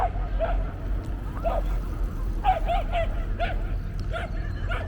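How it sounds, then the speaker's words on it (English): A dog gives a series of short yips and barks at a moderate distance over steady low background rumble, the calls coming in small irregular bursts, at Humber Bay Park West, Etobicoke. "why is that dog over there making a lot of noise?"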